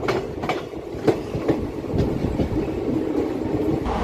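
A goods train rolls along the tracks with a steady low rumble and occasional clicking thumps from the wheels, continuous throughout.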